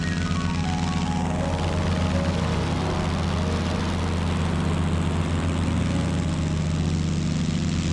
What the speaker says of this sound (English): The takeoff and climb out from Asheville was beautiful, but the sun didn't last long over the horizon.